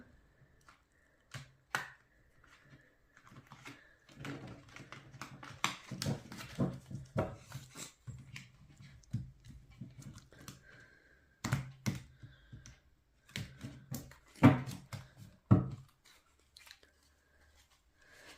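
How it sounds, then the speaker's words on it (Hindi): A deck of tarot cards shuffled by hand close up, giving soft, irregular riffling clicks and light taps in quick bursts with brief pauses, and no voices. "चलिए कार्ड्स को शफल करते हैं ताकि आपकी एनर्जीज को मैं पिक कर सकूं।"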